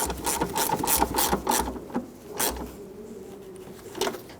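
A ratchet clicks in quick, close bursts while tightening the coolant reservoir bolts on a 1999-2004 Jeep Grand Cherokee, with short pauses between runs of clicks.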